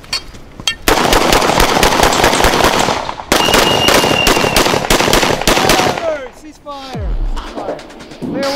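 Gunfire during close-quarters breaching training in the Philippines, loud rapid bursts of shots packed tightly together in two long strings before stopping, followed by shouting voices in the quieter ending.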